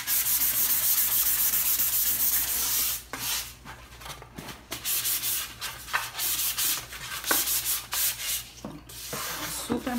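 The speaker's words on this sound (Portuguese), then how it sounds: "já lixamos toda a peça" A wooden sewing box for a scrapdecor craft project is sanded by hand with sandpaper: steady, close scratchy rubbing in repeated strokes with short pauses, and no talking.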